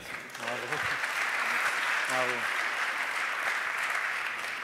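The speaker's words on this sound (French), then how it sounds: "allez, on peut les applaudir" Steady applause from an audience at a smart grid awards ceremony, greeting four prize-winning boys; broad continuous clapping throughout, with a short voice rising briefly over it near the start and again around the two-second mark.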